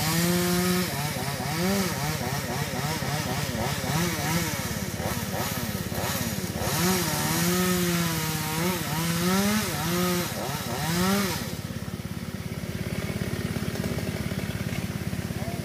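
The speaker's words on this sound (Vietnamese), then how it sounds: "Cây này bạn mình cưa một khúc nha các bạn" A chainsaw runs loud and close, its engine revving up and down repeatedly as it bites into a coconut palm trunk, then settling to a steadier idle.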